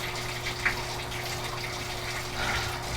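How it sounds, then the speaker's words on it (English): Tap water running steadily at home, a continuous hissing gush with a faint tonal hum beneath, even and unbroken. "In case you're wondering why my water is running like the way it is"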